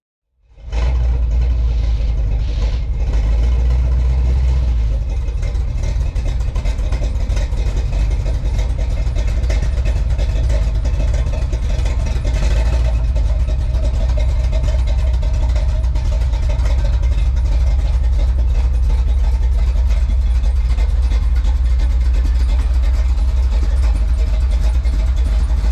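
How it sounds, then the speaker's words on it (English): A truck nicknamed Little John starts up and settles into a steady, loud, low engine idle close by, running continuously with no talk over it. "get the truck started"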